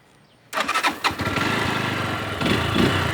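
A 2019 GPX RZ180 fuel-injected motorcycle fires up after a moment of quiet, catching with a few uneven pops before settling into a steady, close idle that rises slightly near the end.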